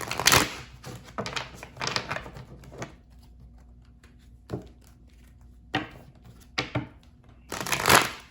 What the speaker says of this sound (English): let's go ahead and get these cards shuffled